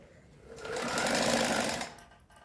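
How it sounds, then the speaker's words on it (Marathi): A sewing machine stitching a kurti runs in one short, steady burst, rising to a fast whirring hum for about a second and a half before stopping. "परत ही पट्टी अशी खाली घालायची आणि हिच्यावर ही शिलाई घेऊन घ्यायची अशी."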